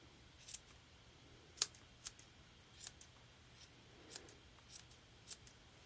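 Scissors snip while trimming a Valentine garland: about eight quiet, crisp cuts spaced irregularly over a hushed background, with no talk.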